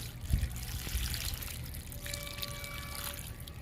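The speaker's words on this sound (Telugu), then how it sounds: "చెర్రీ మొక్కకు కూడా వాటర్ ఇస్తున్నా" Water poured from a container onto a cherry plant in a garden, a soft steady trickle and splash running throughout, with faint tonal background hum and no speech.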